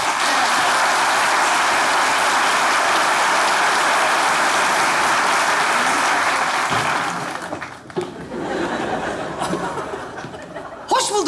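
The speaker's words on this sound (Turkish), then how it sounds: "Alkışlarınızla Yeter geliyor." Loud, steady studio audience applause with scattered laughter fills a Turkish comedy show stage as a guest walks on, fading after about seven seconds into voices and stray claps.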